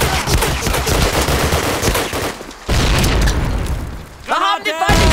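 A grenade blast in the PC shooter Call of Duty: United Offensive during a capture-the-flag match on a city street map, a loud boom within dense, continuous gunfire and battle noise, with a shouted voice near the end.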